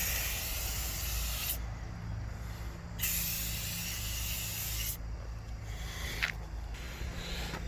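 Car detailing spray misted onto a vehicle's panels in several long hissing bursts separated by brief gaps, close and fairly quiet over a low background rumble, with no voices.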